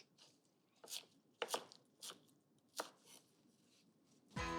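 Knife chopping green onion on a board in a kitchen, several sharp separate chops spaced irregularly, near and fairly quiet, with no talk.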